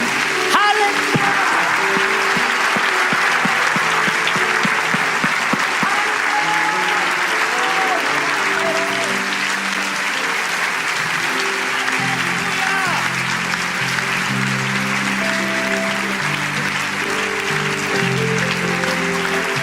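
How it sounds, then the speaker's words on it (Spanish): A church congregation at an evangelical sermon breaks into long, sustained applause that fills the room for nearly twenty seconds, with faint voices and tones running beneath it. "Un aplauso"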